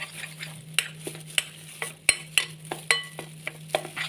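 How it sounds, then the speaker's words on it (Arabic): Spiced food is stirred in a pan, likely rice and chicken strips, with a low steady hum beneath a few spaced scraping clacks of a spoon against the pan and no talk. "رايحه اقلب."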